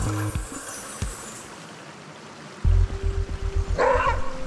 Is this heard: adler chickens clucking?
no